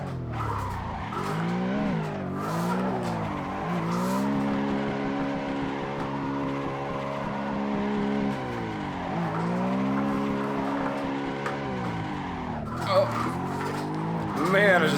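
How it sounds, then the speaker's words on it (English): Assetto Corsa drift car sliding through corners, engine harmonics sweeping up and down as tires squeal continuously across a steady run, loud and close, with brief talk over the sim audio. "I've had some pretty good runs drifting like this here in Xbox Assetto"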